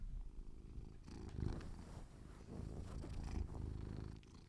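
A house cat purrs close to the microphone in a steady low rumbling rhythm, continuous and fairly loud, with no speech over it.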